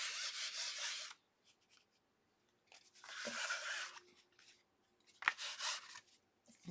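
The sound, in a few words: rubbing paste and wax onto a mixed media tag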